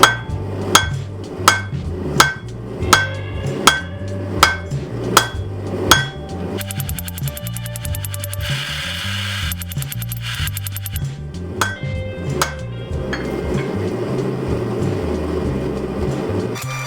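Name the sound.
power hammer squaring round steel stock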